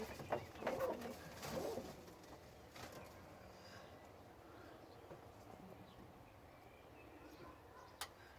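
A long-flying pigeon coos softly a few times near the start, then quieter ambient background follows with a faint click near the end.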